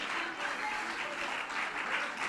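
A church congregation applauds during a Spanish-language sermon, making a dense, continuous wash of many hands clapping at moderate volume with no speech.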